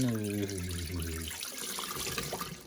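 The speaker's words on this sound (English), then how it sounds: "there's the dirty water. Let's pour it in." Dirty water from the tank of a Tineco Floor One S3 floor cleaner splashes into a sink, a close, steady gurgling pour lasting a few seconds after a brief tonal hum.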